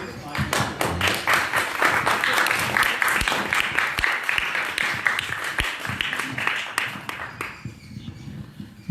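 Audience at a seminar applauding, a dense, steady patter of many hands that sounds like rain, holding for about seven seconds before fading out.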